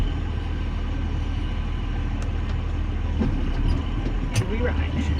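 A tractor engine running in first gear: a steady, low, close-up rumble and drone that continues unchanged throughout, with people talking over it.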